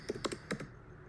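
Several quick keystrokes clatter on a computer keyboard as a Linux firewall command is typed, a short burst of clicks in uneven rhythm, close and moderately quiet, then stopping.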